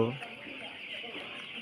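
Young broiler chicks about fifteen days old on a poultry farm give a steady, dense chorus of high peeping and clucking throughout, fairly close and continuous with no pauses.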